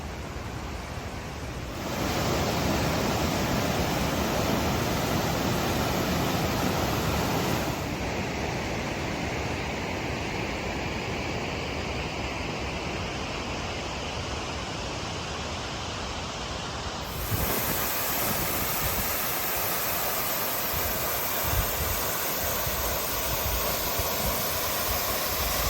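River water rushing over rocks in Idaho, a loud, continuous broadband roar close by, with the sound shifting abruptly in level as the listening position changes.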